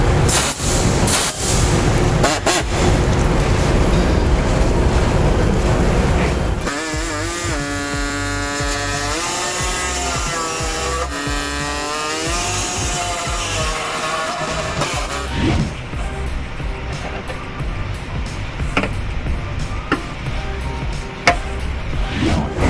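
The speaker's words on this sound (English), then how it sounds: "I'm going to use a air saw to go ahead and enlarge the holes that we need to on the Chevy Cruze" A pneumatic air saw enlarges holes in the frame of a 2013 Chevy Cruze during a trailer hitch install, a loud, continuous buzzing rasp whose pitch wavers and shifts as the blade cuts through metal.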